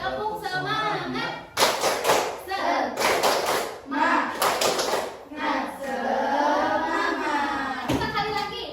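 Children clap in unison to a rhythmic classroom chant, bursts of sharp group claps alternating with sung and spoken lines from teacher and kids, close and lively.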